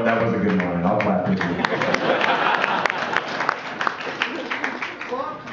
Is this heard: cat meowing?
no